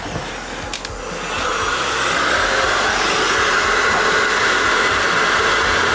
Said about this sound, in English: You got a heat gun.